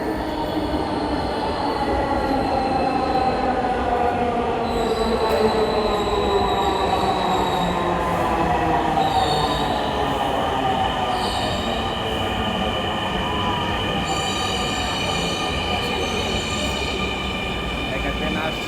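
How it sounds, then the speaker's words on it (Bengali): A Dhaka metro rail train pulls into an elevated station, wheels squealing in rising and falling tones over a steady rolling rumble, sustained and close for the whole stretch. "একটা ট্রেন আসছে, ওটা যাবে হলো গিয়ে মিরপুরে।"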